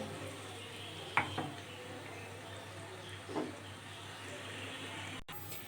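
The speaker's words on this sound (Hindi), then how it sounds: "जो हमारे चिकन के पीसेस थे वो हमने तल लेने हैं, उसको अच्छे तरीके से तलना है" Chicken pieces for an Afghani curry fry quietly in a kadhai, a faint low sizzle with a few sharp utensil clinks and scrapes against the pan.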